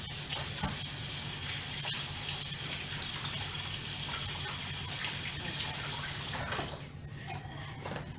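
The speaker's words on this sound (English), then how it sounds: "let me rinse off my hands" Tap water gushing steadily while hands are rinsed in a kitchen, a loud continuous rush that shuts off near the end, leaving faint clattering.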